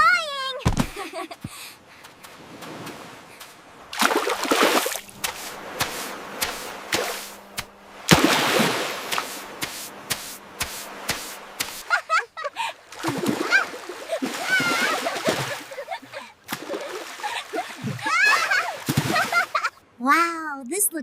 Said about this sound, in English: Let's jump over the waves!